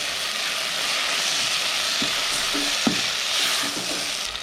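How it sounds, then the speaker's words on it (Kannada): Mint and coriander leaves fry in hot oil for egg biryani, giving a steady, close sizzle with occasional scrapes and taps of a stirring spoon against the pan. "ಸ್ವಲ್ಪ ಪುದೀನ, ಸ್ವಲ್ಪ ಸಾಂಬಾರು ಸೊಪ್ಪು ಹಾಕಿ ಫ್ರೈ ಮಾಡಿ."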